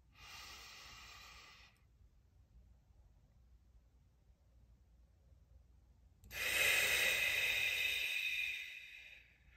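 Two deep, hissing breaths during a guided breathing exercise, one long exhale at the start and a louder inhale or exhale near the end, close to the microphone, with a quiet pause between them and no talking.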